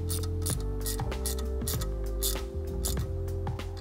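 A 3/8 ratchet clicks in quick bursts of pawl ticks as it tightens the caliper cover nuts on a Tesla Model 3, close and clear with no talk.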